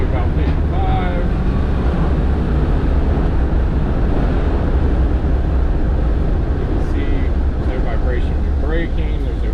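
A 1992 Land Rover Defender 110 station wagon with a V8 drives in third gear at about 55, giving a constant low engine and road drone mixed with wind buffeting throughout.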